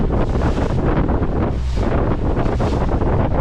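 Strong wind roars over open water from a small boat on a camping trip, a steady, loud rush of gusting noise against the microphone with a faint wash of water beneath.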